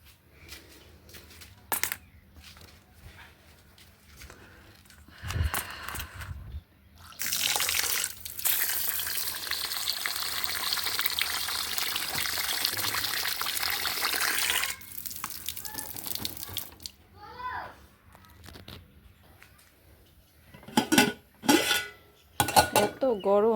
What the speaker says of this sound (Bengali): চালটা ধুয়ে দিয়ে দেবো।